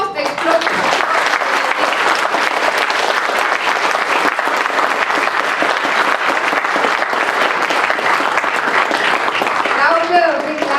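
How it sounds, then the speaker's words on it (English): Loud, sustained applause from a large audience at the launch of C4, the Centre to Combat Corruption and Cronyism, dense clapping filling the whole stretch, with a faint voice rising near the end. "let us welcome C4 into the fray with an explosive applause"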